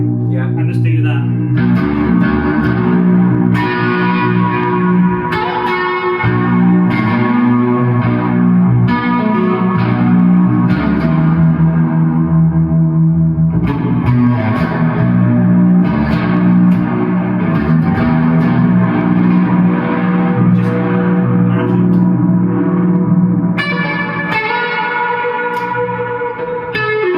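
An electric guitar, a Karl Longbottom instrument, plays sustained chords and ringing notes through a huge reverb that makes each strum bloom and wash into the next. The playing is loud and continuous throughout.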